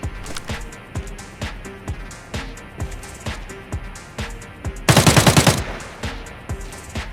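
Gunfire in the shooter game Arena Breakout: Infinite: evenly spaced single shots crack out steadily, broken midway by a rapid automatic burst of about eight rounds, then single shots resume.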